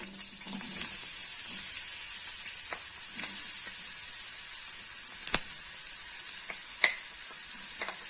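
Chopped onion frying in a pan for an Egyptian omelette gives a steady, close sizzle throughout, with a few sharp clicks and pops from the hot oil; no one speaks.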